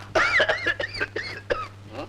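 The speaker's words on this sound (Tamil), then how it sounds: "இவன் ஆஸ்பத்திரி கட்டவல்ல இருமுவான் போல இருக்குது" In a Tamil comedy film, a man gives a rapid series of harsh, exaggerated coughs and throat-clearing noises that break into several short bursts over a low hum.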